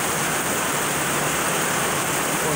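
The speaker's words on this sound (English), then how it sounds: "It's raining here today" Steady rain falls at an outdoor shooting range, a dense continuous hiss with no talk or shots.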